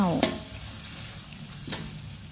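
Chili sizzling and being stirred in a hot pan, with two sharp scraping clinks of a utensil against metal over a steady frying hiss.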